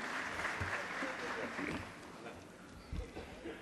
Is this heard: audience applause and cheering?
yes